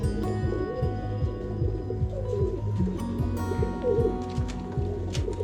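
Rampuri-breed Kalanch high-flying pigeons coo steadily in repeated low, throaty phrases that overlap one another, loud and close, with no talk over them.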